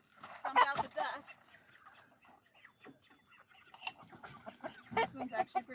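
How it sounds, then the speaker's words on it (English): Chickens and a rooster in a farm coop during morning chores cluck in scattered bursts, close by, under occasional talking. "There's all the chickens and there's our rooster."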